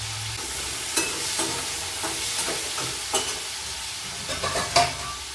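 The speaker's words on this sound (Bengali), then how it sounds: "আলুটা ভাজা হতে থাক" Potato pieces with salt and turmeric frying in a pan, a steady nearby sizzle broken by repeated spatula scrapes and clinks as they are stirred, no voices.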